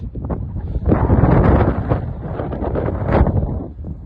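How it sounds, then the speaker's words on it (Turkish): Steady, loud wind on a hilltop viewpoint over Ayvalık buffets the microphone with a broad rushing roar that swells in gusts and never fully drops away. "buraya o zaman rüzgar vuruyor"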